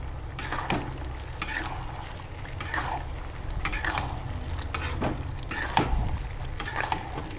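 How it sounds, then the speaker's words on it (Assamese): Duck meat and potatoes frying in a pan over a gas flame, with steady sizzling and repeated scraping strokes of a spatula at close range, no voices. "এতিয়া মই গেছটো অকণমান বঢ়াই দি পেলাই পুনৰ ভাজিবলৈ লৈছোঁ আলুখিনি অলৰেডি সিজি গৈছে ধুনীয়াকৈ"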